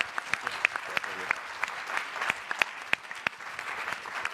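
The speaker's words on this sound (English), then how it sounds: "Big round of applause." A pitch conference audience applauds, a moderate crowd with loud individual claps standing out near the front and some voices mixed in.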